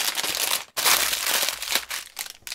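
Plastic bag holding Lego pieces from set 80109 crinkles loudly and continuously nearby, with dense rustling bursts and one brief pause.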